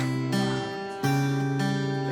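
Guitar playing a part with the open 3rd string ringing as a drone, a few plucked notes and chord changes sustaining close and clear, with no talk.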